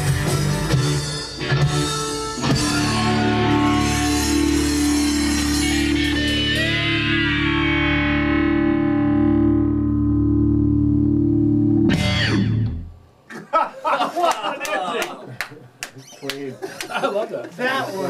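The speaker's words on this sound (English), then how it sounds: "That sounds like a Vox AC30 doing that" An electric guitar played through a Vox AC30 amplifier rings out a long, sustained distorted chord with rich harmonics that slowly fades, followed by a burst of choppy, reverberant picking.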